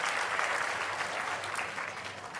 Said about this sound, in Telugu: గట్టిగా చప్పట్లు కొట్టి అందరూ కూడా అభినందించండి